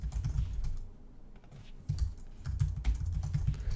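Someone types code on a computer keyboard, giving a quiet, close, uneven patter of key clicks in short bursts with a brief pause midway and no talking.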